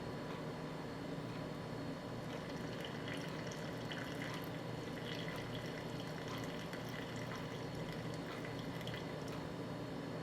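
Warm water poured for a sourdough starter, a faint, steady trickle and drip running quietly throughout with no talking.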